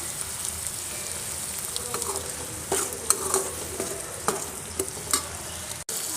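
Steady sizzling and frying of chopped small onions in a hot pan, with occasional stirring clinks and scrapes, close and continuous with no talking.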